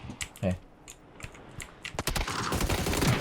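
Gunfire in the video game PUBG: bursts of rapid shots in the second half, preceded by scattered clicks and a short voice, fairly quiet overall.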